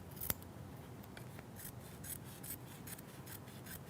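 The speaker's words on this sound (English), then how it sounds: "I'm going to take my duckbill scissors and just run that right along" Duckbill scissors trim batting along a tack-down stitch for a machine-embroidered applique banner, giving a quiet, close series of soft snips and rasping cuts with no talk.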